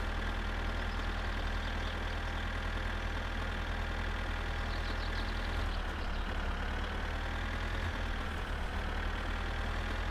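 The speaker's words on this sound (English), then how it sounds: "Come on, tractor, pull." A tractor engine in the video game My Summer Car labours under load with a continuous, steady mid-pitched drone that shifts slightly in tone partway through.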